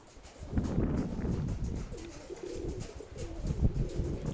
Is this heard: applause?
no